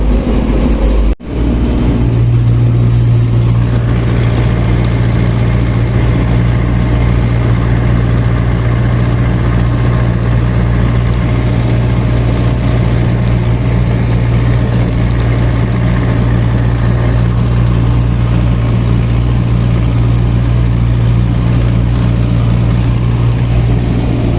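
An MTZ-82.1 tractor pulling a plough runs with a loud, steady diesel drone and deep hum that hold throughout, close by, with no talk.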